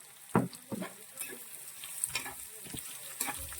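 Chopped green papaya sizzles in hot oil with ginger, garlic and chilli in a pan while being stirred, giving soft scraping strokes over a low steady frying hiss, close by.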